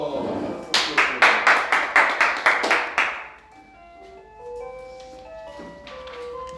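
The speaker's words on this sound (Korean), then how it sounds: "박수!" Students in a classroom give a brief round of synchronized clapping, about ten sharp, evenly spaced claps close by over a few seconds, then quiet room tone with faint tonal sounds.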